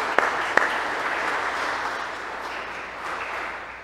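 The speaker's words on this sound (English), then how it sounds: "Let's give her a big round of applause" A church congregation at a Lutheran service applauds, a soft, even wash of many hands clapping at a distance, steady and moderately quiet throughout, with a couple of sharper knocks near the start.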